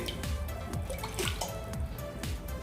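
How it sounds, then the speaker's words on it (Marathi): Half a bowl of water trickles and drips into a pressure cooker, with a series of small splashes and drops over a faint steady hiss, quiet and close. "आता आणखी अर्धी वाटी मी पाणी घालून घेते यामध्ये कुकरमध्ये"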